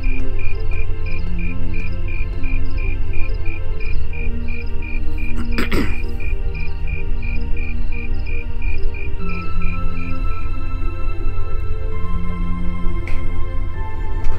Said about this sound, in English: nice transition with the crickets again